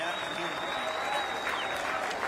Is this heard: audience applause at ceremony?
yes